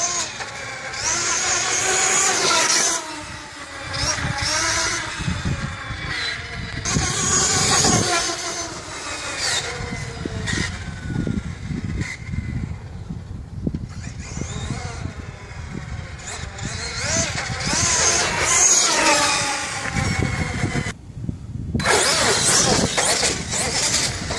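A Losi LST 3XLE or Arrma Nero RC car races fast across open ground, its electric motor whining up and down in loud repeated bursts over gritty tire and gravel noise.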